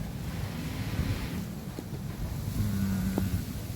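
Strong gusty wind before a rainstorm roars and buffets the microphone outdoors, a continuous low rushing with faint distant rumbles and no talking.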